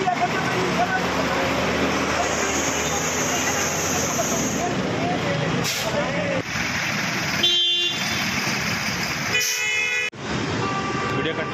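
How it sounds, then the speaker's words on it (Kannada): Vehicles sit in a kilometres-long traffic jam on a Bengaluru road near Anekal, with two buses stopped mid-road. Repeated car horns honk over the engine rumble of the street, and people speak throughout. "ಕಿಲೋಮೀಟರ್ ಗಟ್ಟಲೆ ಟ್ರಾಫಿಕ್ ಜಾಮ್"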